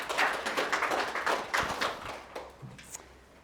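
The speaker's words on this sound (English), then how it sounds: "please give a massive round of applause for Mr. Paul Dewing." Audience applause at a 2025 New Year workplace legal seminar welcoming a speaker, a brief burst of clapping that is loudest at the start and fades away over a few seconds.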